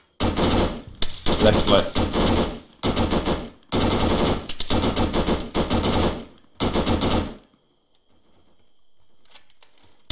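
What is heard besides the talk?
gunfire from a video game (Arma)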